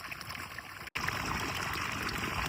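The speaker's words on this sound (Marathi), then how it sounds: "आता हे पाणी असं या पाटाने इथून टर्न मारून वावरात पाणी आलेलं आहे" Water flows steadily along an irrigation channel into a farm field, a constant close rushing and trickling wash with a brief dropout, no voices over it.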